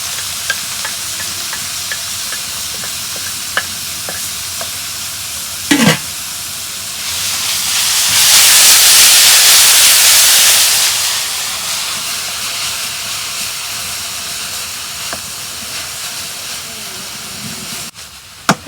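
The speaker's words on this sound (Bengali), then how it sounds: "খেসারি কালার শাক ভাজা হচ্ছে" Khesari greens fry in a hot pan with garlic, giving a steady hiss that swells into a loud, broad sizzle midway, then settles back to a softer crackle, with a few clinks of a stirring utensil.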